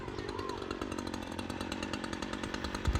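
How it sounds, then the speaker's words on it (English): A chainsaw engine roars steadily and loudly up close, its buzzing drone unbroken throughout, with a brief thump near the end. "climb in the bucket, get well above ground, and lift a chainsaw above your head"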